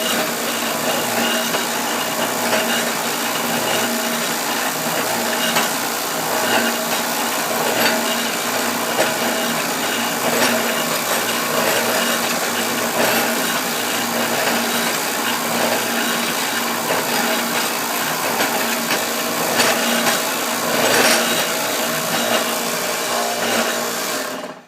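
Motor-driven line boring rig cutting through a tractor axle bore, a steady continuous whir and grinding chatter of the cutter running unbroken at close range throughout, no voices.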